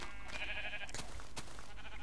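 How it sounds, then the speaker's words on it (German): A Minecraft sheep gives a short bleat in a quick blocky game scene, faint and close, with a couple of clicks of game sounds around it and no talking. "Schaf vor dem Eingang und geht nicht weg?"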